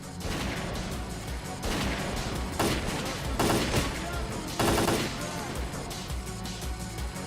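AK rifle fire in the video game S.T.A.L.K.E.R.: Clear Sky: loud, harsh bursts of gunshots repeat in uneven clusters with brief gaps between them over several seconds.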